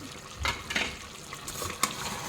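Spice masala tipped straight into hot oil for a Naatu Kodi Pulusu chicken curry sizzles and crackles, with a few sharp spits and stirring scrapes over a couple of seconds, close and fairly loud.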